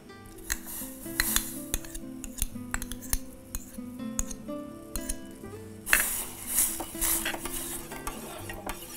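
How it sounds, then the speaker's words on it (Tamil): Grated pumpkin is stirred into milk warming in a pot, giving close, irregular spoon scrapes and light clinks of metal against the pan with a soft simmering hiss underneath. "இந்த நம்ம துருவி வச்சுருக்க பூசணி துருவலை இதோட சேர்த்துக்கோங்க"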